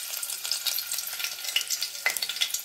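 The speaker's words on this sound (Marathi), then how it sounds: "आपण 2 लसूण टाकतात फोडणीसाठी" Two garlic cloves fry in hot oil for tempering a mackerel curry, giving a close, steady hiss dotted with sharp crackles and pops.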